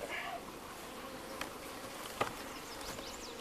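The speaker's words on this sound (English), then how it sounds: "I'm gonna dump your bees in here, and they're gonna get a little mad." Honey bees in a horizontal hive buzz in a steady, dense drone, close and moderately loud, with a few sharper buzzing passes of individual bees standing out.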